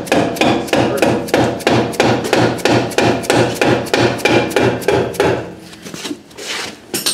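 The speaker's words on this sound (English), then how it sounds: "I could use this little teeny hammer" A small hammer strikes a rear brake drum on a barn-find Ford Mustang with dry rust and brake dust. Some twenty quick, close metallic blows land in a steady rhythm, then pause briefly near the end.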